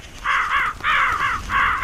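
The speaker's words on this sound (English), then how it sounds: "That's a lot of crows." Crows in the horror video game Mold caw loudly and close, several birds calling in quick repeated bursts with short gaps, with no talk over them.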